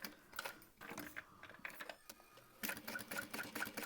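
A sewing machine stitches a crossbody bag at slow speed, giving a close, steady mechanical whirr with rhythmic needle clatter that briefly pauses near the middle and then resumes louder.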